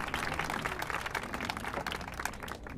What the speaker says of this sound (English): I want everybody to give a thundering applause for Christina